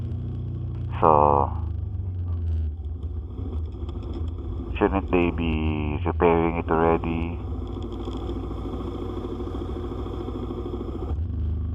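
Congested road traffic on a street torn up for water-pipe laying, with a steady close rumble of engines, a short horn blast followed by a burst of several honks, and someone talking over the din.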